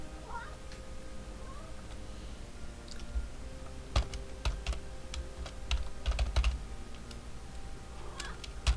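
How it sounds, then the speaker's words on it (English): Keys clatter on a computer keyboard in irregular bursts as a character gets renamed in the roguelike ADOM, with clicks clustering toward the end over a steady low hum; a faint cat meow also appears. "If I could hit the correct keys, that would be great."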